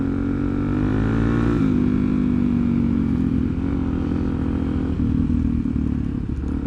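Suzuki DRZ dirt bike engine revs hard while climbing an off-road trail step, a loud, close, continuous roar that rises in pitch then settles into steady throttle.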